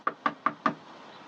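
Four sharp knocks on a door, evenly spaced and close by, ringing out alone with no voices.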